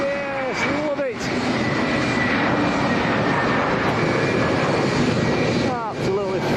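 A Condor airliner passing at Lanzarote Airport in a strong crosswind sends out a loud, sustained engine roar with shifting whine, while a voice talks over it.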